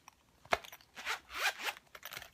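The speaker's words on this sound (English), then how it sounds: "and zip it up" Zipper on a Louis Vuitton Daily Organiser wallet being pulled shut, a few quick close rasping zips in short bursts, quiet and with no voices.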